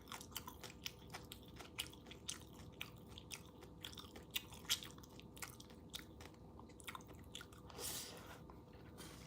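Someone chews crunchy cabbage in curry up close, giving quiet, wet, irregular bites and soft crunches in a steady run with a faint squish here and there.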